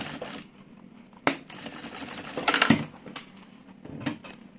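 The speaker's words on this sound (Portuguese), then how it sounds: "E aí, eu venho e passo uma costura pra travar." A sewing machine makes a few short, uneven runs of stitching to tack two fabric pieces together, with light clicks and taps from handling the cloth in between.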